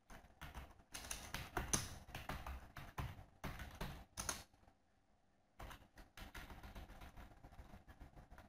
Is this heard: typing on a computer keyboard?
yes